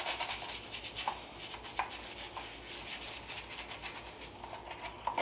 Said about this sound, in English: I'm going to give it a light dressing of Dawn dish soap, and I'm going to scrub